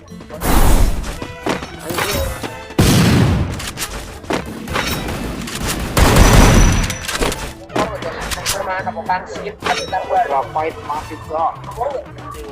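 Gunfire from a shooter video game crackles in loud bursts of booming shots and thuds, with several dense volleys and quieter stretches between them.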